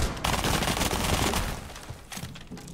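Pistol gunfire in a video game, a dense burst of rapid crackling shots that fills the start and tails off into scattered pops, loud and close.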